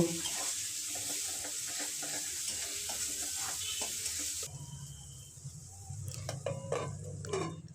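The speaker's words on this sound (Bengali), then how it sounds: "আমি কিছুক্ষণ মটরশুঁটির সঙ্গে মশলাটা নাড়িয়ে নেব" Spice masala with green peas sizzles loudly in a pan as it is stirred, a bright steady hiss with rhythmic scraping, then the sizzle fades and duller scraping and clattering of the spoon continue nearby.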